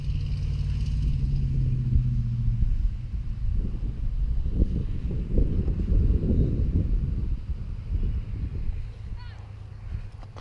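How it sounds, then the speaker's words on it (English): Strong wind gusts through a vegetable garden with corn and squash, buffeting the microphone in a heavy low rumble that eases near the end, while a person talks throughout. "Now the wind is so hard, blowing so hard"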